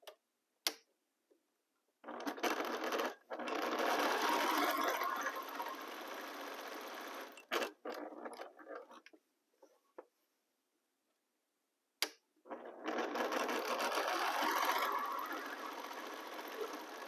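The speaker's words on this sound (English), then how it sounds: "I'm going to line them very well and start sewing." Home sewing machine stitching light fabric, running in two long steady bursts of rapid mechanical ticking and whirring, with short start-stop runs and pauses between, close and fairly loud.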